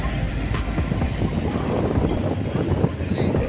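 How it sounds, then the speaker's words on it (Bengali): Strong wind buffets the microphone outdoors, a loud, low, rumbling roar with irregular gusty surges that continues throughout. "বাতাস হইতেছে।"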